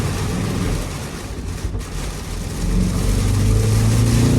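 Heavy rain pounds a Land Rover Defender's windshield in a downpour while it is driven. The hiss is dense and continuous, with a low engine rumble underneath that swells toward the end.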